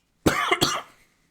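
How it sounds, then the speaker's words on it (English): A single close, forceful cough in two quick bursts, standing alone in silence. "sorry for any coughing or anything"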